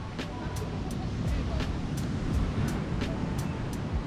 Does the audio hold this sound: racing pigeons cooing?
no